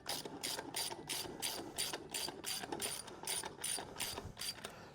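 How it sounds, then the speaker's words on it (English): A spanner ratchets steadily in rapid, evenly spaced clicks, close and alone, while tightening the spare wheel bolts on a Subaru Solterra. "this is where we need our 21 mil spanner. So we can just tighten these up."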